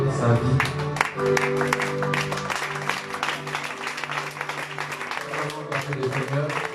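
A church congregation cheering the Lord and applauding a prophet on Father's Day: clapping runs throughout, mixed with loud voices, shouting and music.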